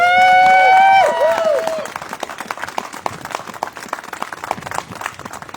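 A crowd at a county executive candidacy announcement cheers and applauds, a loud voiced cheer opening before dense clapping carries on steadily for several seconds.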